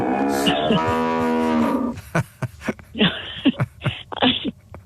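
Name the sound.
cow mooing sound effect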